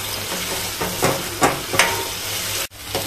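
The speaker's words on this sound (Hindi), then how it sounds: "जब तक ये ऑयल नहीं छोड़े तब तक हमें इसको अच्छे से भूनना है। लो फ्लेम पे ही भूनना है इसको।" Masala gravy sautés on a low flame in a pan, a close, steady sizzle punctuated by a few stirring scrapes and a brief clunk.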